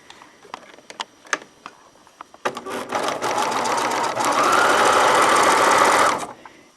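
Sewing machine stitching velvet with no pins, a few ticks and clicks first, then a steady loud rattling run of stitches that speeds up and stops abruptly near the end.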